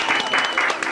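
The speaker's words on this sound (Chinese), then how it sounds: "掌声鼓励。" A television cooking show's studio audience gives a short burst of applause in uneven pulses, with a voice talking over it.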